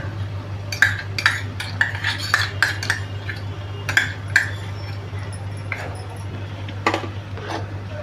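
A spoon stirs and sautés Schezwan chutney with tomato sauce, red chilli sauce, soy sauce and vinegar in a pan, giving repeated metallic scrapes and clinks over a steady low stove hum.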